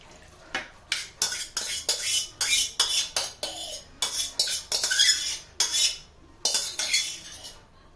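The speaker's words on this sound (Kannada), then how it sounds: "ಇದನ್ನು ಒಂದು ಮಿಕ್ಸರ್ ಜಾರ್ಗೆ ಹಾಕ್ಕೊಳ್ತೀನಿ" Cut mango pieces are dropped and scraped into a mixer jar, making a quick series of clinking, clattering knocks of utensil against jar in an uneven rhythm, close and fairly loud.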